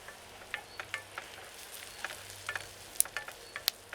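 Onions fry quietly in olive oil, a soft background sizzle broken by small scattered pops and crackles, with stirring sounds now and then.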